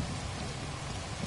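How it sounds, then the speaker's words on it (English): Steady rain hisses and patters across a stormy planet in No Man's Sky, with a low rolling rumble of thunder building faintly underneath; the downpour stays even and dense throughout without any voices. "love that lightning or thunder"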